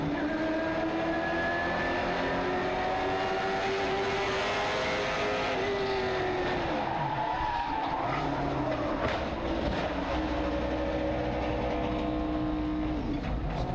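Limited Late Model stock cars roar around the Southern National track, their engines a loud continuous drone with pitch sweeping up and down as the cars pass, no talk over it.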